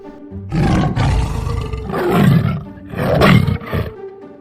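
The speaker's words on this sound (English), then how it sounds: "The lion roared." A deep lion roar rolls out in three long, loud surges of about a second each, close and full, then fades to quiet at the end, with no voices over it.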